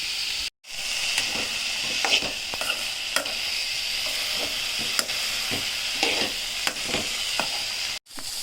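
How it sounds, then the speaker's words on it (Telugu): Cluster beans curry fries in a pan over a medium flame, giving a steady, close sizzle broken by frequent scraping stir strokes and two brief dropouts to silence. "ఒక 10 minutes దాకా ఫ్రై చేసుకుంటూ ఉన్నాం, మీడియం ఫ్లేమ్లో సిమ్లో పెట్టుకుంటా."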